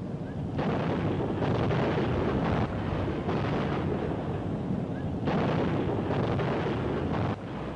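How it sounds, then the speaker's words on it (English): An artillery gun crew firing during a wartime newsreel battle: dense, loud, rumbling booms and blasts roll on almost continuously, thick with wind-like roar and muffled, distant-sounding old film recording. "A gun crew makes a direct hit."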